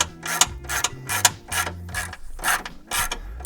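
Ratchet wrench loosening a tie rod end on an Alfa Romeo Mito QV, rapid bursts of clicking pawl strokes in a quick repeated rhythm, close and crisp with short pauses between pulls.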